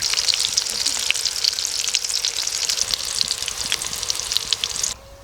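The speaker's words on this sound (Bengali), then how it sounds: "এই ডিমের রেসিপিতে ডিমগুলো লাল লাল করে ভেজে নিতে হবে" Whole eggs fry in a pan of hot oil until reddish, giving a loud, continuous crackling sizzle with small pops that runs steadily and then cuts off abruptly near the end.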